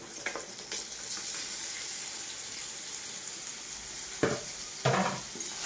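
Boiled breadfruit sizzles softly in a pan with fried tomato and onion, a low steady frying hiss broken by a couple of brief stirring clatters.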